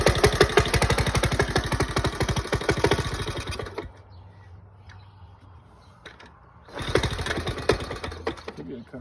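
A 1979 Honda Z50 motorcycle engine idles roughly with a loud, uneven rapid pulsing, drops away to near silence for a few seconds, then returns just as loud.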